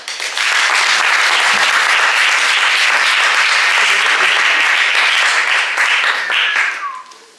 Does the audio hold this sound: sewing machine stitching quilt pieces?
no